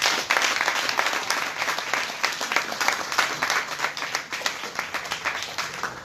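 Theatre audience applauding a stage actor, a dense, steady round of many hands clapping at close range with crisp individual claps standing out, sustained throughout.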